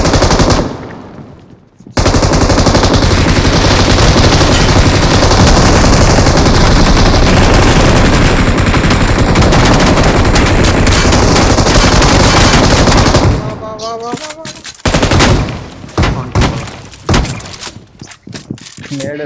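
Rapid automatic gunfire in a shooting video game pours out loud and dense for about twelve seconds, then breaks into scattered single shots and short bursts, with a voice talking faintly underneath.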